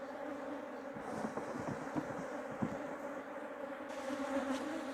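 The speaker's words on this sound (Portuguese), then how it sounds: "Já vamos aqui balançar as abelhas." Honey bees being shaken from hive frames while a colony is split give a faint, steady buzzing drone with soft knocks and rustles scattered through it.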